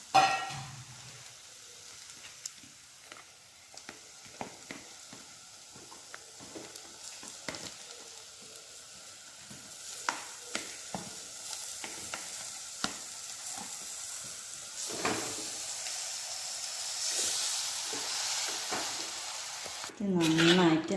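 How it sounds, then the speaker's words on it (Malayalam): Tripe curry sizzles steadily in a pan while a spoon stirs and mixes it, making repeated scraping strokes over a constant frying hiss, with a louder clatter at the end. "ഇളക്കി യോജിപ്പിക്കാം."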